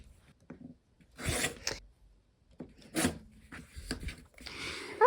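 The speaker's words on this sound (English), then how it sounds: "let's go ahead and cut on the line again" Scissors snipping through quilt fabric along a marked line, giving several short rasping cuts in separate bursts, close and fairly quiet, with brief pauses between strokes and no talking.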